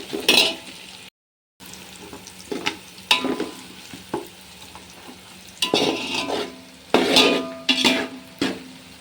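Onions sauté in a pan for home-style chicken biryani, bursts of sizzling with spatula scrapes and clinks against the pan, coming in uneven strokes with brief pauses between stirs.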